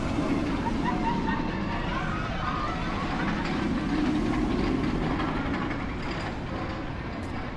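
The Demon roller coaster train runs at Six Flags Great America, a continuous rumbling rail roar with clattering wheels that stays steady and fairly close, with faint voices in the background.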